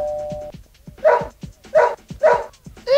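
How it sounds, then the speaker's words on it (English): A dog barks three times in a steady rhythm, each bark fairly loud and close, with a steady tone at the start and a higher yelp at the end. "Bruno, shut up barking!"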